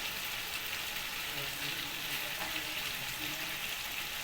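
Chicken and potato curry with chopped coriander sizzling steadily in a pan as it is sautéed, a continuous soft hiss and crackle with no talk.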